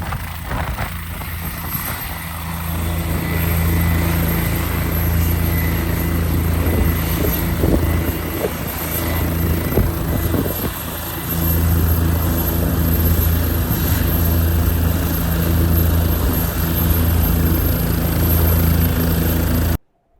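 A helicopter flying to Gangotri drones loudly and continuously, its heavy rotor thrum and engine whine steady throughout with no talking, cutting off abruptly at the end.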